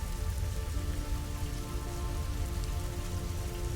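Steady rain falls on a shore, a dense, even hiss of drops on surfaces that holds unbroken throughout, fairly loud and close with no voices.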